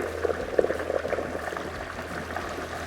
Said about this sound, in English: Today I'm frying a 16-pound turkey, 4 minutes per pound